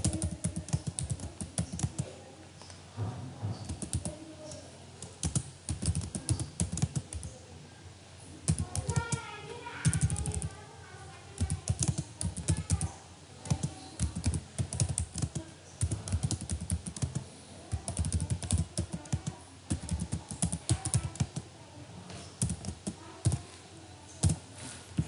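Steady typing on a computer keyboard while filling in an ad's location and duration, a close run of quick key clicks with brief pauses, continuing throughout without any talk.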